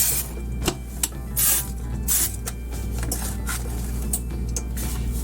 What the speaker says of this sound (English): We're also going to go ahead and grease our loaf pan, both the bottom and sides.